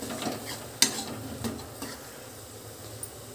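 A spoon stirs cardamom powder into a thick rusk barfi paste in a pan over the gas, giving soft scraping and a sharp clink early on, then a quiet low sizzle.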